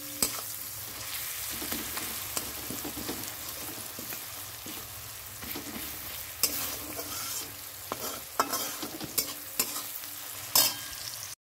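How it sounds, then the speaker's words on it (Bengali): Onions sizzle in hot oil in a pan, a steady hiss broken by repeated scraping and clacking strokes of a spatula stirring, close and fairly loud throughout with no speech. "আর এটা পেঁয়াজটা ভাজছি,"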